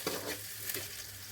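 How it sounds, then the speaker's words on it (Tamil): Onions frying in oil in a kadai, sautéing for a chickpea tamarind gravy, give a steady soft sizzle with faint stirring scrapes throughout, close and moderately quiet. "வெங்காயம் லைட்டாக வதங்கினா போதும்"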